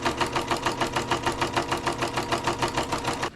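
A close sewing machine stitches a leggings-fabric scrunchie seam shut with a rapid, even mechanical chatter at moderate volume that runs steadily and then stops at the very end.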